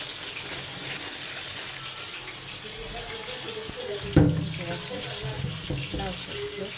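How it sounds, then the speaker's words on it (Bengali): Tap water runs steadily into a sink, close and continuous, as bottle gourd greens are set to soak, with a brief clatter partway through and light kitchen handling sounds. "লাউ শাকগুলো ভিজিয়ে রাখি, তাহলে তাজা হয়ে যাবে।"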